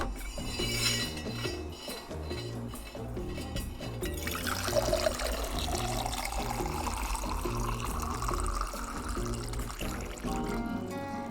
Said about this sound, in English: Is ready for some water pouring ASMR.